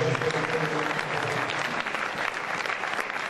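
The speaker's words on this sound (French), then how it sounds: "Est-ce qu'on peut acclamer très fort le Seigneur?" A church congregation applauds loudly for the Lord during a French-language service. The clapping is dense and sustained, close and full, and holds steady throughout with no break.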